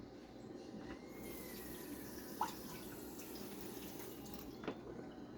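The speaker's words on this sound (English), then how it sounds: "And I like to add a little water too." Water poured from a tap into a pan of taco meat and seasoning, a steady faint running-water wash with a couple of small splashy drips, no talking.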